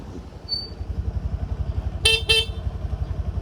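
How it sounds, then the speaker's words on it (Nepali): A motorcycle horn gives two quick, sharp honks near the rider while the engine putters in a steady idle underneath. "हर्न बजाउँछु।"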